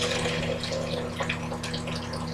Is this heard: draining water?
yes